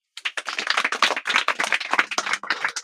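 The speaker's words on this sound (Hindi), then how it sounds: "इनके लिए तालियां" A short burst of scattered hand clapping from a small group, brisk and close, lasting a few seconds before fading out.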